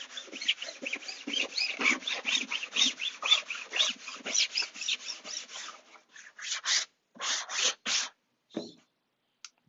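Brisk rhythmic scuffing and sanding strokes on a fabric-covered aircraft wing with Scotch-Brite and 320 grit paper, close and fairly quiet, thinning into sparse strokes near the end.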